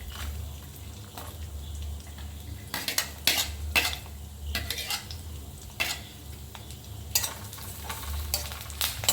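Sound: coconut pieces frying in coconut oil

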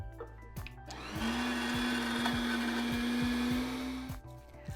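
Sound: meat grinder mincing onion for mititei

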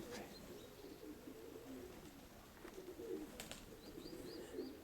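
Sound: pigeon cooing

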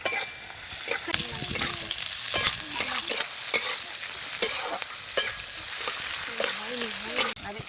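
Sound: stirring onion, tomato and capsicum in a frying pan

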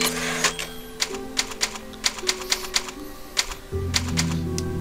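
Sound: typewriter save point in Resident Evil 4 video game

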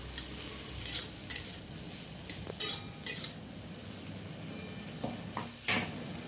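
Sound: frying eggplant and taro in a pan

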